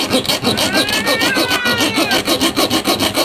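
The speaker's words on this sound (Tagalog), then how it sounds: "nilagarin din natin kabila para flat screw na lang gamitin natin" A hand saw cuts a slot into a metal ignition switch part with rapid, regular back-and-forth strokes, close and rasping, about ten strokes over three seconds.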